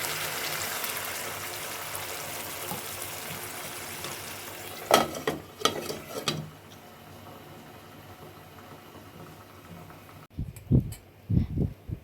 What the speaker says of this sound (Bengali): এবার পনিরগুলোকে দিয়ে দিলাম, দিয়ে ভালো করে একটু নেড়ে চেড়ে দিয়ে